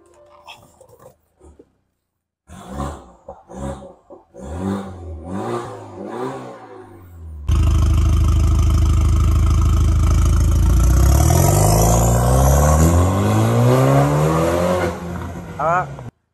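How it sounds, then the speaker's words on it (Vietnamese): Some voice-like sounds come first, then a 2013 BMW 3 Series engine with dual exhaust fires up loudly and runs with a rough, throaty exhaust rumble and a few sharp revs. "mình nổ máy cho các bạn nghe thử nha"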